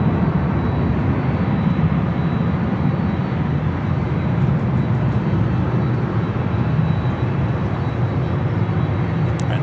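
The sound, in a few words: aircraft at Los Angeles LAX airport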